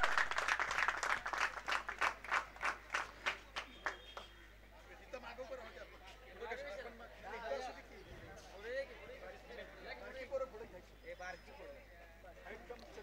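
Crowd applause at a village sports tournament prize ceremony: several seconds of loud, evenly spaced clapping in unison, then the claps thin out under someone speaking over a PA system.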